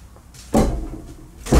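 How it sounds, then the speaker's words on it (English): A sliding trap-door floor panel in a garage man cave scrapes and rumbles as it moves, two close, loud bursts of grinding separated by a short quieter gap. "this part of the floor moves."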